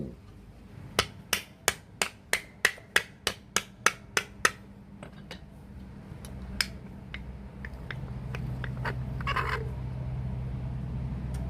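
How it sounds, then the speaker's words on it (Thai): A screwdriver is hammered into a zinc tin lid to punch holes: a rapid series of about a dozen sharp, ringing metallic strikes, then sparser, softer taps over quiet background noise. "ใช้ไขควงหรือเหล็กมาตอกทำรู"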